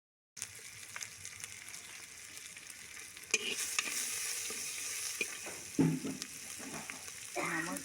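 Chopped tomatoes and leafy greens sizzle steadily in a hot pan in a Jharkhand village kitchen, with a spoon scraping and stirring them in occasional bursts at close range.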